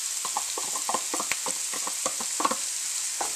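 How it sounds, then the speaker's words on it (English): Ackee and saltfish sauce with peppers frying in a pan while being stirred round and round, a steady close sizzle with repeated scraping stir strokes, no voices. "Keep going round and round in the pan so it doesn't burn."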